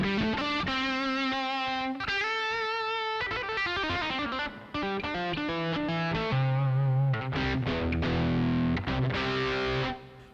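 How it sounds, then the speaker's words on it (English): Electric guitar played through an XXL distortion pedal with a Tech 21 Fly Rig, giving thick, sustained distorted chords and notes that change steadily with no talking. "Now, that's the XXL pedal. I don't have it set to a real high distortion now either"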